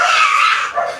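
A dog barks and yips outdoors, a short, bright, close burst of one or two barks with no talk over it.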